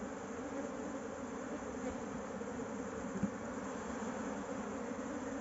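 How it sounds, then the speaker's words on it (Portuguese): A swarm of honey bees around a hive in a tyre gives a dense, steady, continuous buzz that stays even throughout, close and fairly loud, with no talking. "Olha só o tanto de abelha."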